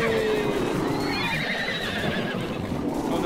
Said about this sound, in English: Hello, bears and horses, we can live happily ever after.